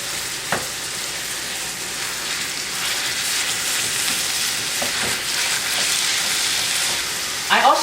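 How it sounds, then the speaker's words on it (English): Lean ground beef browning in a hot pan for spaghetti meat sauce, a loud, steady crackling sizzle close by with a few utensil knocks and scrapes as the meat is broken up. "I'm going to plop about 1 pound of lean ground beef. I want to get that over here. I'm just going to break it around."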